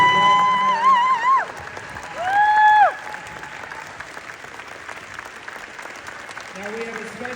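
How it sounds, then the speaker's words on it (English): Applause from an audience at a "Return to Oz" screening event with Walter Murch, steady clapping mixed with tonal sounds and some voices, fairly moderate in level. "And everyone, please give a round of applause here."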